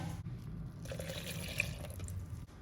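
Water poured from a measuring cup into flour in a bowl makes a soft, continuous trickling and splashing, faint and close, with no talking.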